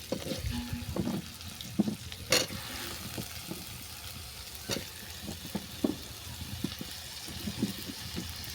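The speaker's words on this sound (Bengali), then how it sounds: "পেঁয়াজটা হালকা করে ভেজে নেওয়ার পর দিয়ে দিচ্ছি কচু" Taro pieces tossed into a pan of lightly fried onions, a continuous close sizzle of frying overlaid with scraping, clattering stirring strokes at irregular intervals.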